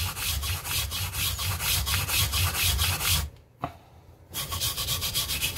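Steel wire brush scrubbing rust from loaded shell casings, a close, fast, rhythmic rasp that pauses briefly partway through before starting again.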